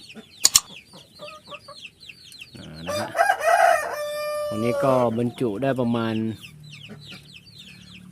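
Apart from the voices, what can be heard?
chickens clucking and gamecock crowing among turkey chicks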